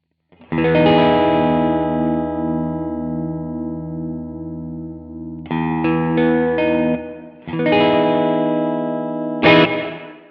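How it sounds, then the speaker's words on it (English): Electric guitar chords through a Strymon Big Sky reverb pedal ring out and sustain with a lush, washy reverb tail, followed by a few shorter strummed chords that decay into ambience. "Let's now mix in some reverb."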